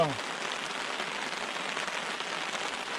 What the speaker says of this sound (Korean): 비 오는 거 보이시죠?